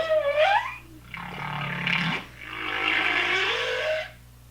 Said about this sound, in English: A humpback whale sounds like this.